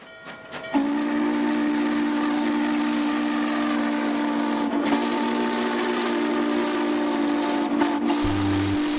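A loud, sustained steam whistle from Norfolk and Western 611 steam locomotive sounds steadily for several seconds with a rich, layered tone and slight wavering, over a rumbling rail background.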